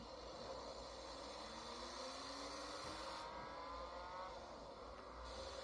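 Race car accelerating on a track in a mobile racing game played on a phone, a steady engine drone rising in pitch, continuous and fairly faint, with no talk.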